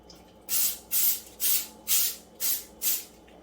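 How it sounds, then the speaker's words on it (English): Six short bursts of canola oil cooking spray hiss in a steady rhythm, close and fairly loud, with a faint low hum beneath and no talking. "Give it a little spray"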